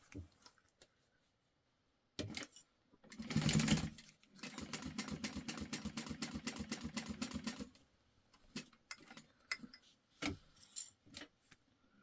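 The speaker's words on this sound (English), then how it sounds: "we're stitching along the top and then we're trimming the seam allowance." A sewing machine stitches along the top of a fabric wristlet in a close, rapid mechanical run of a few seconds, framed by short bursts and handling clicks before and after.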